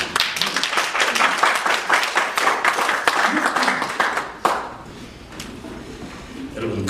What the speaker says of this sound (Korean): 이 시간 나오실 때 뜨겁게 박수로 맞아주십시오.